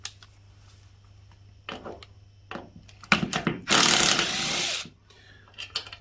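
A handheld power tool whines in a short, loud burst of about a second while removing a part from a Ryobi grass strimmer, after scattered clicks and handling knocks, with more tapping following.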